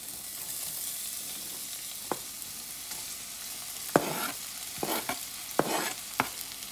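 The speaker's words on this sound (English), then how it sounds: "I have some oil in the pan. I'm gonna add my onions." Onions frying in oil in a pan for a fish stew, a constant close sizzle broken by several sharp clanks and scrapes of a utensil stirring, with no talking.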